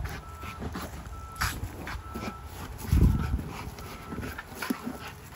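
Big-headed, heavy-boned dogs whimper and whine in short high-pitched bursts over a steady background hum, with a louder low thump in the middle and a constant electronic tone throughout.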